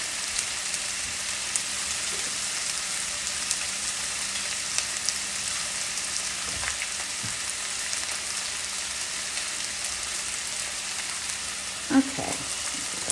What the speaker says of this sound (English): Look at it browning.